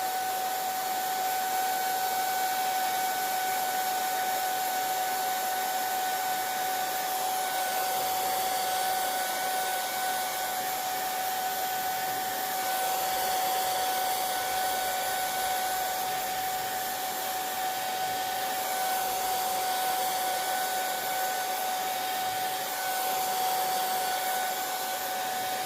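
A hair dryer blowing on a freshly painted canvas, a steady whining hum with airy rush that runs unbroken and fairly close for the whole stretch.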